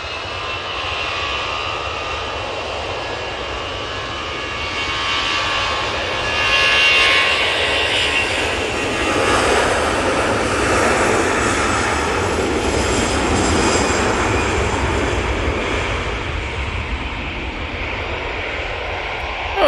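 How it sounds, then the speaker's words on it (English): Jet2 airliner departing Manchester Airport: a loud, sustained jet engine roar that swells and fades slightly as the plane climbs away, with no voices. "Jet 2 is off to Burgos"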